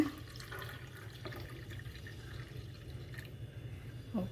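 Mint lime juice poured into a glass at close range, giving a steady, soft liquid trickle and faint dripping that runs throughout with no voices.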